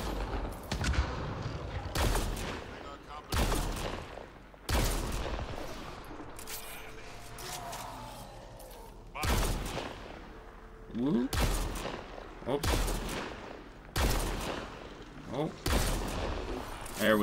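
Bursts of gunfire in the video game Mass Effect: Andromeda, loud repeated shots in clusters across the clip with quieter stretches between, a person talking over the action.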